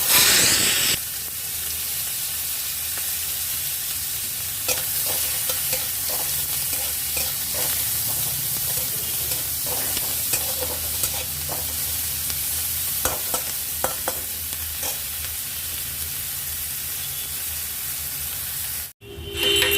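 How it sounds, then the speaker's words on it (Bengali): Chopped onions fry in hot oil with nigella seeds, a steady close sizzle running throughout with intermittent scraping of a spatula stirring the pan, no voices, cutting off briefly near the end. "এরপর তেলের মধ্যে কালো জিরে ফোড়ন দিয়ে দিলাম ফোড়নটা ভাজা হয়ে যাবার পর দুটো পেঁয়াজ কুচি দিয়ে দিলাম"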